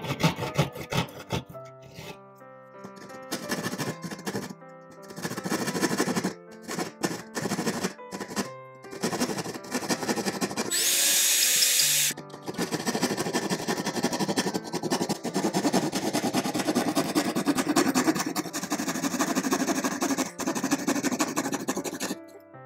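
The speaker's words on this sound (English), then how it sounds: "start from the drilled hole with a small drywall saw. Cut all four sides along the outline" Small handheld drywall saw cutting along a marked outline in a wall around a drilled starting hole for an outlet, giving steady rhythmic rasping strokes with brief pauses, close and fairly loud, no talking.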